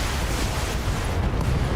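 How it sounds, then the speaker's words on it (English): Ammo explosion on a mech in BattleTech, heard as a loud, sustained rumbling roar of steady blast noise throughout, with no distinct separate bangs. "Oh! Ammo explosion!"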